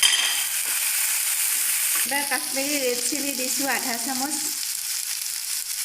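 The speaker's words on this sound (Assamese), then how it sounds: "এইখিনি অকণমান ভাজি লৈছোঁ মই এনেদৰে হালধি আধা চামুচমান দি দিছোঁ" Turmeric, ginger-garlic paste and spices fry in hot oil for dal tarka, a steady close sizzle running throughout while someone speaks over it partway.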